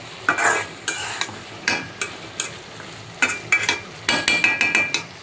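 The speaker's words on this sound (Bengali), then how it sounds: "ভেন্ডির জন্য প্রথমে আমি আলুগুলো দিয়ে দিলাম" Potato pieces for an okra dish frying in a pan and stirred in repeated bursts, each scrape and sizzle rising and fading in an irregular rhythm, close and fairly loud with no voices.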